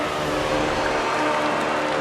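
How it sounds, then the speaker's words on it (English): Race car from the F1 2013 game, a Lotus 100T at Brands Hatch, a steady loud engine roar with a broad hiss that stays fairly constant rather than sweeping past, with no voices. "There comes one car."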